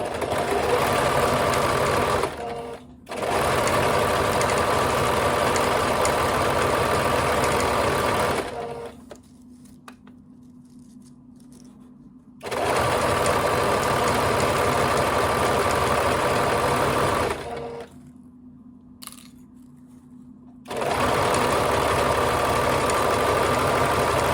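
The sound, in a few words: sewing machine stitching a French seam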